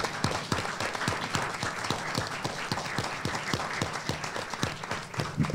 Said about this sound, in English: let's give them a standing applause.